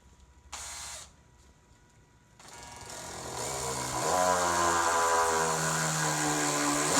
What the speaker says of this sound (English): now I can just go ahead and screw in my screws